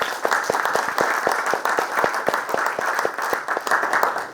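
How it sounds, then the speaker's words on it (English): A conference audience claps steadily, many hands together at a brisk, even rhythm, sustained and fairly loud throughout. "Another round of applause, please."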